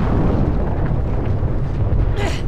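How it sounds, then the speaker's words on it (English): Rumbling explosions in the action video game Uncharted 2 fill the scene with a dense, continuous low roar, a brighter burst flaring near the end. "Why are things exploding?"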